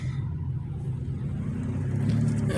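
A car driving along a residential street, a steady low engine rumble and tyre noise close by that builds slightly toward the end, with no clear talk over it.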